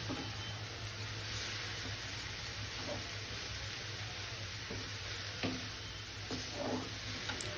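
Carrot halwa with sugar stirred in a pan, a soft continuous sizzle with faint spoon scrapes and light clicks, fairly quiet and steady throughout with no talk.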